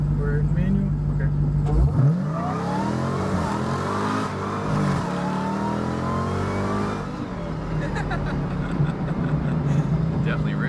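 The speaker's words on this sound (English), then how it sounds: "Oh, that's where it hits the rev limiter." A car in manual mode revving up against the rev limiter while the transmission refuses to shift, loud engine climbing and bouncing at the limiter, with people talking over it.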